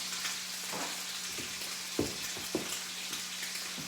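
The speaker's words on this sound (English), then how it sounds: "down it goes. We're going to do a 3-minute sear on each side" A chuck eye steak sears in a hot pan, giving a steady, quiet sizzle with a few sharper pops and crackles spread through it and no one talking.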